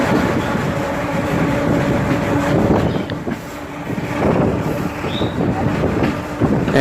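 A passenger train runs along the rails in Bangladesh near Pangsha, heard from on board as a loud, continuous rumble with rattling wheels and some wind buffeting, without talk.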